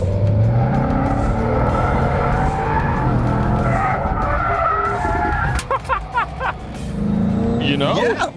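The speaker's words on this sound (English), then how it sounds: "that was a drift" A cheap supercar drifts with its tires skidding and squealing, a loud sustained screech over the engine that breaks into choppy bursts near the end, with voices talking over it.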